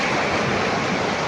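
A strong flood current of river water rushes past close by, a loud, dense, unbroken roar of turbulent water with no speech over it.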